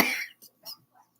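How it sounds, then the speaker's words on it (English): A person at a bar gives a single harsh cough up close, followed by a few faint breathy throat sounds and near-silence. "And then you can't stop coughing."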